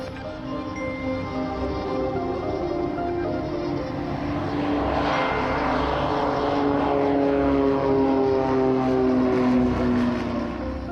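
A propeller airplane takes off from runway 09 at Bristol Airport. Its steady, loud engine drone fills the whole stretch, with no talk over it.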